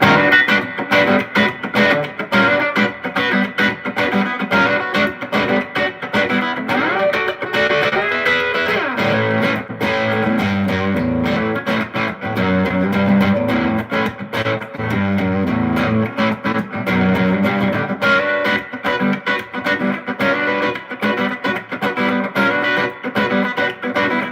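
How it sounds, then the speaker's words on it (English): An electric guitar plays through a Swart amplifier with a 10-inch Jensen P10R Alnico speaker, a gritty, driven tone and lingering reverb, chords and notes ringing continuously and loud. "This is just just the amp by itself with some reverb on."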